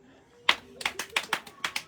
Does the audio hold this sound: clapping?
yes